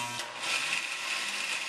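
Blender running on vegetables and herbs for a green chutney, a brief burst of whirring motor and chopping that starts after a short pause and continues steadily at close range.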